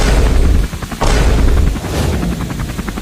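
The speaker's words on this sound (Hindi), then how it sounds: "अब आग लगाऊंगा पटाखे में, ये लो।" A loud, dense burst of cartoon firecrackers crackling, with sharp pops and booms repeating in quick succession throughout.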